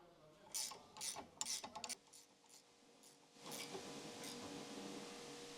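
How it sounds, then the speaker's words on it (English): A 17mm quick wrench tightens the lower mounting nut on a sway bar link of a 2015 Ford Escape, giving a run of quick, close ratcheting clicks in short bursts, followed by a softer, steadier mechanical rasp. "Use a 17mm quick wrench to tighten the lower mounting nut on the sway bar link"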